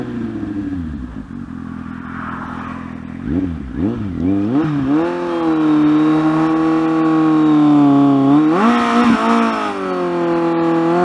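A Kawasaki Z800 motorcycle engine revs hard on a launch, pitch climbing and falling in repeated surges before holding a loud, steady high drone, with a second rev burst near the end; close and alone with no talk.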